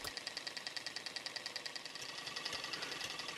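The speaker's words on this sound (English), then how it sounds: "Here is the engine set up to drive a small fan. The engine has just been started and will pick up speed as she gradually warms up." A 1964 model Stirling engine driving a small fan as it warms up, giving a fast, steady rhythmic ticking and whirring that runs evenly throughout, close and moderately quiet.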